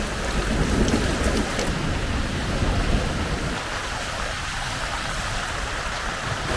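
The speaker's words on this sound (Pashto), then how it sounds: "ډېر تیز باران ده" Very heavy rain pours down near flowing stream water in Paghman near Kabul, Afghanistan, forming a loud, continuous hiss and rush that stays steady throughout, with no talking.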